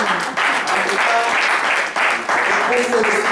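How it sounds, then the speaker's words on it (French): A church congregation at a Pentecost service bursts into loud, sustained applause, the clapping dense and continuous for several seconds with voices mixed in beneath it. "Acclamons très très fort la parole du Seigneur"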